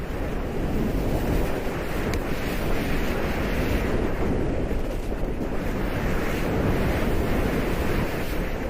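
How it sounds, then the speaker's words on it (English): Skis and their edges running on icy snow during a fast downhill ski run, a constant loud roaring rush of noise mixed with wind buffeting, steady with no pauses. "The other stuff that you hear is definitely your skis and your edges on the ice."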